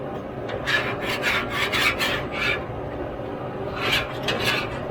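A metal spatula rasps repeatedly across a Blackstone griddle, scraping up browned food residue left from cooking gumbo with a chocolate roux; close, gritty strokes come in quick bursts with a short pause before a final run.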